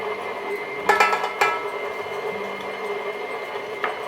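A stand mixer creams butter and sugar together, giving a steady mechanical hum with a few light clinks of the beater against the bowl, fairly quiet and with no talking.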